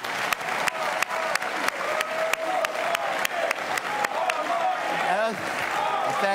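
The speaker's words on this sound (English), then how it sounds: "Let's have a round of applause for everyone." An audience at the Louisiana governor's debate applauding, a broad steady wash of clapping with occasional sharp pops, and faint voices and a tonal sweep near the end.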